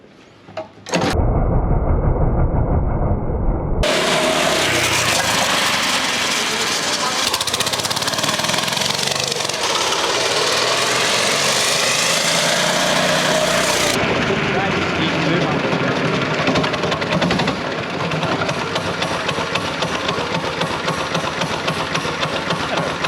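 A homemade motorised esky's small engine catches and then runs loud and close, a rough, steady near-idle drone that carries on for about twenty seconds.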